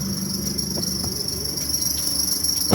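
A car's air-conditioning belt squeals with the AC switched on, a continuous high-pitched whine with little change over a low engine hum, close by.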